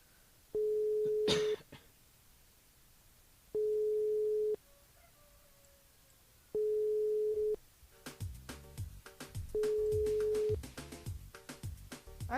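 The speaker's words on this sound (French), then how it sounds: "on appelle Katuisia sur le standard" Telephone line tone on a radio station switchboard during a live morning show: three steady beeps of about one second each, well spaced, then a fourth beep over loud music that starts partway through.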